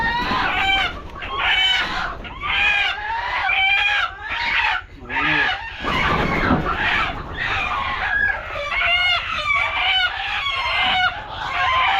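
Chickens cluck and squawk close by in a busy chorus, with a rooster crowing among them.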